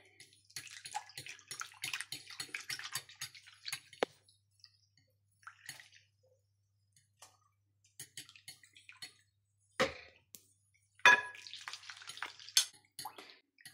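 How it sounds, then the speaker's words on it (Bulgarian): Soup of dock leaves being stirred while a mixture is poured in a thin stream, giving quiet wet sloshing and dripping in bursts, with a few sharper splashes and gaps of near silence. "докато бъркаме"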